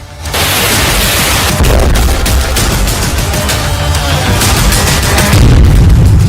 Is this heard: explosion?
yes